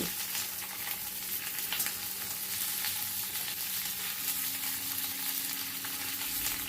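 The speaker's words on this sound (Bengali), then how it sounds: "এবার সব কিছু ভালো করে মিশিয়ে দিয়ে নাড়াচাড়া করে নিচ্ছি" Capsicum pieces and onion sizzle steadily in a wok as they are stirred together, a continuous even frying hiss up close with faint scraping and no voices.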